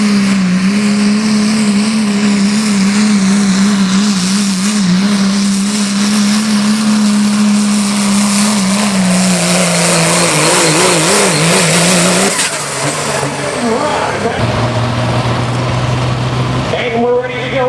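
A limited pro diesel pulling truck at an Oak Harbor, Ohio truck pull roars loud and steady under full throttle, then the engine note drops and shifts as the pull winds down, heard close with crowd ambience.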